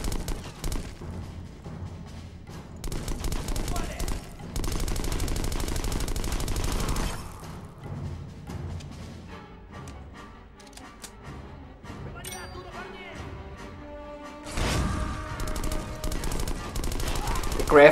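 Rapid automatic gunfire from the Xbox shooter Black rattles in long sustained bursts with scattered impacts and booms, loud and dense throughout, under game effects.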